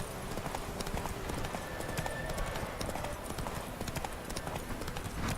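A horse's hooves clip-clop in quick, steady succession as it travels in The Witcher 3, the footfalls close and continuous throughout.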